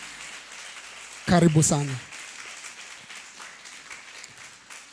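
An audience claps briefly to welcome a speaker named Mary at a women's summit event, a short burst of applause swelling then fading, with a voice speaking over it.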